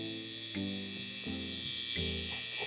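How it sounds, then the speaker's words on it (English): An electric hair trimmer cuts hair during a high taper waves barber haircut, giving a close, steady buzzing drone whose pitch shifts as it flicks up through the hair. No one speaks. "I'm gonna start flicking up with the trimmer."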